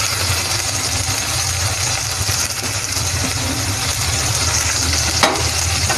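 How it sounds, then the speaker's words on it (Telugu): Tomato pieces and onions fry in a pan for a drumstick tomato masala curry, giving a steady, close sizzle with a low rumbling hum underneath and no talking throughout. "ఇప్పుడు ఇందులో టమాటా ముక్కలు వేసేస్తున్నాను"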